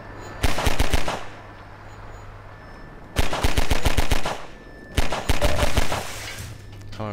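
Three rapid bursts of automatic gunfire from the Half-Life 2 video game, each lasting about a second, loud and close with steady background hum between volleys.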